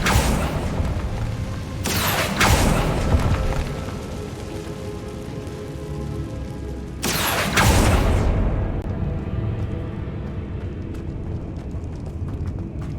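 Confringo blasting spell explosions in Hogwarts Legacy, two loud booming blasts several seconds apart, each with a broad rumbling burst that decays into a steady game ambience and fades at the end.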